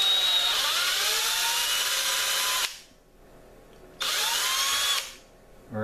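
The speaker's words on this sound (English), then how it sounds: "I'm going to drill the tine for some type of a lanyard" A power drill with a step bit whines loudly for a few seconds boring a hole through an antler tine, stops, then starts again for a second burst before cutting off; no voices.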